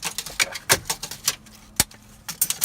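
A tape measure pulled out in a van interior near the driver's seat, giving a quick series of sharp ratcheting clicks and rattles, close and fairly loud, with a brief pause midway.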